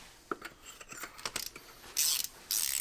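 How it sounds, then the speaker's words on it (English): A torque wrench with a 16mm socket ratchets as spark plugs are tightened into the aluminium cylinder head of a Mini One R50/R52 Tritec engine. Short close clicks come in a series and end in two longer bursts of ratcheting. "we can now retighten the spark plugs, and that requires a 16mm socket"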